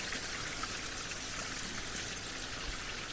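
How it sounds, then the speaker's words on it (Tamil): Clean spring water pours out from beneath a rock, a steady, faint, hissing trickle that runs on alone without pause. "ஊற்று தண்ணி பாருங்கள் எவ்வளோ க்ளீனாக ஊற்றுது பாறைக்கு அடியிலேருந்து வருது"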